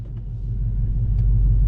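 A supercharged Ford F150 truck with a VMP setup rumbles on the road, its deep low engine drone building steadily as it drives, close and loud with no talk.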